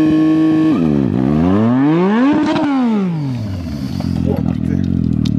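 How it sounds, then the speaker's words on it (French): Motorcycle engine revving hard during a rear-wheel burnout attempt, pitch dropping, then climbing and falling in loud sweeps before settling into a rough, clattering idle close by. "Le concept est d'accélérer et de freiner en même temps pour faire de la fumée avec la roue arrière."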